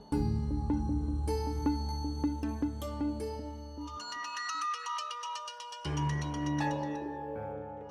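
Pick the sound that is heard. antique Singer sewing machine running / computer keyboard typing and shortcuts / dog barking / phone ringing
phone ringing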